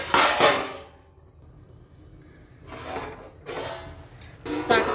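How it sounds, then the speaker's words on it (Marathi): A steel plate lifted out and handled in a home kitchen, giving a few loud metallic clatters and scrapes at the start and again near the end, separated by a quiet stretch. "ताट काढून घेतलं"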